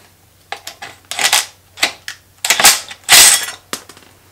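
Tools working on a screwed-on caliper guard bracket of a Yamaha trail motorcycle in a workshop: a series of sharp clicks, cracks and scraping bursts, close and fairly loud, with no talk.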